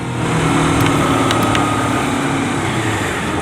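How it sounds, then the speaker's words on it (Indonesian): A Honda CBR250RR motorcycle fitted with a racing exhaust runs steadily and loudly up close, with a continuous engine drone and no pauses or speech. "Akan ku perlihatkan dan ku perdengarkan suara dari knalpot ini secara langsung."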